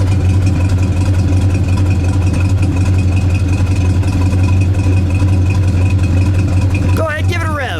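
A 1970 Plymouth Road Runner with a 440 Six Pack engine idling loud and close, a deep, steady rumbling burble with an even pulse, and a brief voice breaking in right at the end.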